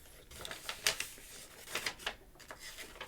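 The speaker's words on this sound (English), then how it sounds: "I'll cut 2 semicircles, I think" Scissors cut paper semicircles for a collage in a series of quiet, crisp snips and rustles, irregular and close, with faint handling noise between cuts.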